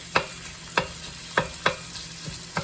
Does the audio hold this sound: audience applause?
no